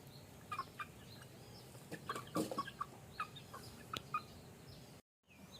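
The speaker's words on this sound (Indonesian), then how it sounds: "Iki pitik bangkok. Iki pitike iki ana 3." Bangkok chickens, a game fowl breed, clucking with a newly hatched brood: faint, scattered short clucks over a quiet outdoor background, ending in a brief silence.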